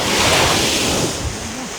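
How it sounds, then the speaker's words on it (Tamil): Loud ocean surf rushes onto the shore in a continuous roar, with a wave breaking and washing in close by and wind buffeting the microphone. "இப்போ பாருங்க அலைய"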